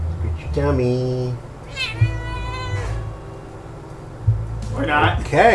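A cat meows repeatedly at close range, a few drawn-out cries separated by short pauses, with some background noise between the calls.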